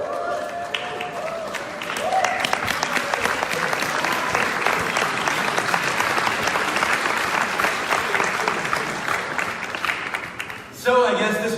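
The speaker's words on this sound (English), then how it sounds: "So I guess this was the applause for the old platform." Sustained applause from a large expo audience in Paris fills a big hall, dense steady clapping with crowd noise, continuing for about ten seconds before breaking off near the end.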